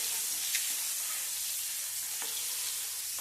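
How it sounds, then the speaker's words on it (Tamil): Boiled eggs tossed in a pan with chilli powder, turmeric and salt, giving a continuous bright sizzle with occasional soft scraping stirs and no voices. "இப்ப அவிச்ச முட்டையில பிரட்டிக்கலாம்"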